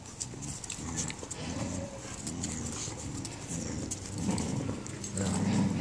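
Five huskies at play, giving rough yips, growls and snarls that come thick and close over a steady background, swelling louder toward the end.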